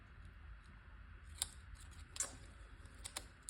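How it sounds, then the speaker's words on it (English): Scissors snipping through paper while folding a Danish Christmas star, a few short, crisp cuts at irregular intervals, close and fairly quiet against a soft room hiss. "I find it easier with these scissors to just cut on one side, like that's the cleanest cuts."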